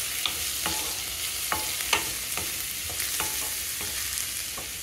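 Chopped onion pieces frying in a pan for a mushroom curry, with a steady close sizzle and several sharp scraping stirs spaced through it, no voices.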